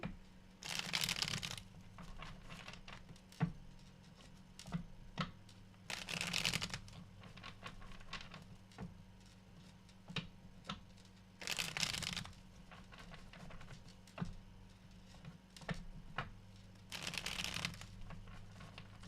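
Tarot cards shuffled over and over in four quiet riffling bursts, with light taps and handling sounds in between, close up.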